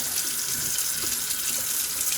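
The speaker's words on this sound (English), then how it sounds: "So let's get some soapy water in here." Faucet water pours into a sink to make soapy water, a steady close rushing hiss with faint bubbling underneath, continuous and without talk.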